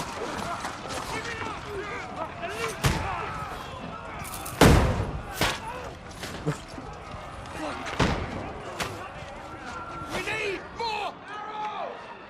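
Hand cannon gunfire in the intro of the video game Oni, scattered sharp shots and thuds ringing out over a busy game soundtrack, with a voice talking now and then.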